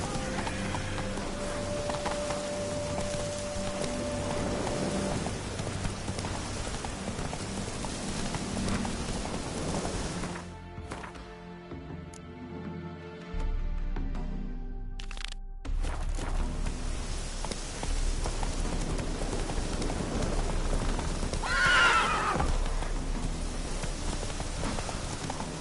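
A horse gallops in The Witcher 3, rhythmic hoofbeats mixed with a rain-like hiss and other game ambience, briefly dropping away midway before resuming, with a possible faint neigh.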